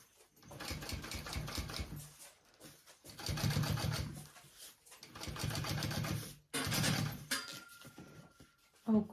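A sewing machine stitches a mini backpack in four bursts of rapid mechanical clatter, separated by short pauses, close and moderately quiet.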